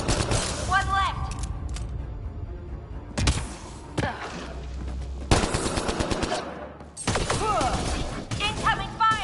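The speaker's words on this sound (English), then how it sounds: "Incoming fire." Video game gunfire, with repeated bursts of automatic fire and sharp cracks, some loud and close and others trailing off. A radio-style voice talks in between the shots.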